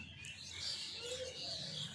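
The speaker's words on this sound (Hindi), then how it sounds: "मैं कोशिश कर रही थी आप लोगों को चिड़ियों को दिखाने की" Faint birds chirp and tweet outdoors, thin high calls against a soft steady background.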